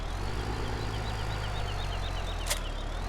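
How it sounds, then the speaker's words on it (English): Tractor engine idling in the Farming Simulator 17 farming game: a steady low rumble holding constant throughout, alone with no talk, with one brief sharp click near the end. "We'll take this tractor."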